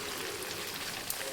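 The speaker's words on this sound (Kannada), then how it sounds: "ಹೊರಗಡೆ ಒಳ್ಳೆ ಮಳೆ ಬರ್ತಾ ಉಂಟು ಜೋರಾಗಿ" Heavy evening rain pouring outside a home in near-darkness, a steady, dense hiss of drops with no talk and no breaks.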